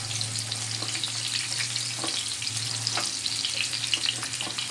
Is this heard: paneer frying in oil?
yes